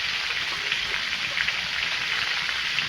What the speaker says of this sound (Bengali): তেলটা গরম হয়ে গেছে, দিয়ে দেব আলু সজনে ডাঁটা